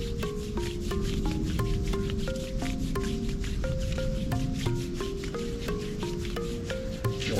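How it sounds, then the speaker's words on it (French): Hands rub briskly up and down the left forearm and arm during a beginner's Qi Gong session, a steady close swishing friction heard alone, with gentle music tones in the background. "Et on frotte l'avant-bras et le bras gauche."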